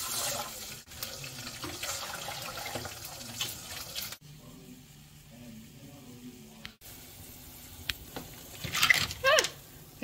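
Tap water runs into a cooking pot in a kitchen, a steady hiss and splash that cuts out briefly twice before resuming, with a faint voice under the flow and clinking near the end.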